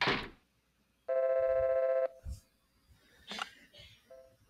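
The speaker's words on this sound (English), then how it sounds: "That's the phone again." A telephone in an anime-style FMV video game rings once in a loud, steady electronic burst of about a second, then a fainter short ring follows amid soft background sounds.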